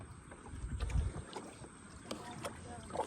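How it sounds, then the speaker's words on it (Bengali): A small boat moves along a river while fishing nets are out, with low rumbling water and wind buffeting the microphone, a few knocks, and faint voices in the background. "নৌকা নিয়ে এগোচ্ছি"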